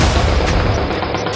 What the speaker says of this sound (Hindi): गलियों में गोलियां चल रही हैं।